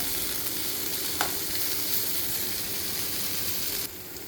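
Steady, dense sizzling of sardine roe frying in hot oil, close and continuous, with a brief scrape of stirring partway through.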